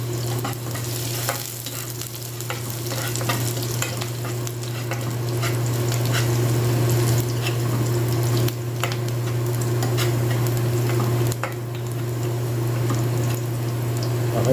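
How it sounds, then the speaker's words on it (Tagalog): Garlic hits a hot pan and sizzles steadily, with stirring scrapes and some running water. The frying stays loud and continuous, close by, with no talk. "Mainit na ang ating lutuan. Lagyan natin ang bawang."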